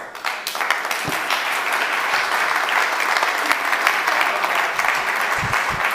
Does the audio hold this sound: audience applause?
yes